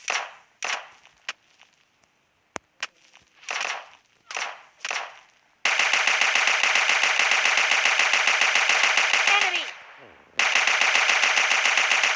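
Gunfire in PUBG Mobile Lite, a few separate bursts and single shots followed by long, rapid, loud automatic fire that breaks off and resumes.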